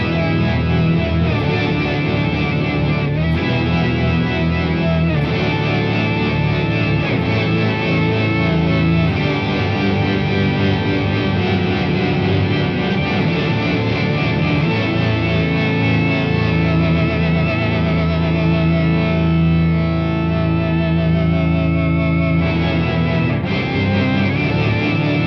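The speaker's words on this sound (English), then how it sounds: "in this poly mode, it's like a rotary effect" Electric guitar run through an MXR Poly Blue Octave pedal in poly mode with fuzz and a swirling rotary-style modulation, producing a continuous, dense, loud distorted chordal drone with no talking.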